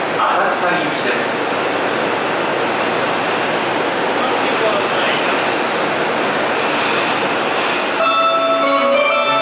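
A Tokyo Metro Ginza Line 1000 series train at Ueno station platform after the morning rush hour, its motors and wheels producing a loud, steady roar that persists, followed near the end by tonal platform sounds.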